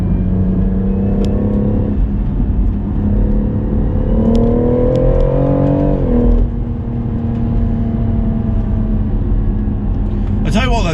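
A BMW M140i driven hard on a race track, its engine droning and rising through the revs under continuous talk from inside the car, with a brief drop as it lifts off.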